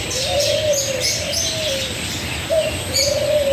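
Bird calls, including cockatiels, chirp and tweet against a steady hum at Heritage Park in Santa Fe Springs, with a long drawn-out whistled note repeating and sharper chirps scattered above it.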